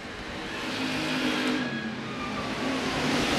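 Hobby stock race cars roar down the back straightaway of the Sherman County Speedway, a loud, sustained engine drone from a distance with no voices.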